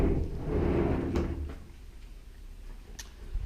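A sliding door on a built-in bedroom wardrobe in a rental apartment rolls along its track with a soft rumble, then gives a couple of light knocks as it stops, close and fairly quiet in a still room.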